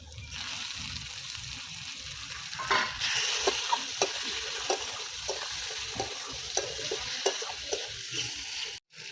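Potatoes and onions sizzle in fish oil in a pan, with a steady frying hiss and occasional scrapes and stirs of a utensil throughout.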